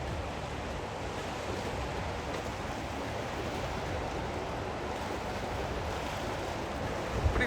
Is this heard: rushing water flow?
yes